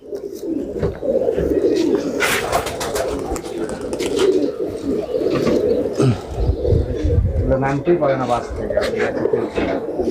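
Pigeons coo in a loft of Bengali racing/flying pigeons, a steady low rolling murmur running through the clip beneath continuous close talk from people nearby.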